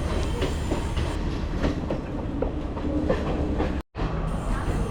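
A train to Badulla, Sri Lanka, rumbles steadily along the tracks with rhythmic clattering wheels, close and loud throughout, briefly cutting out near the end.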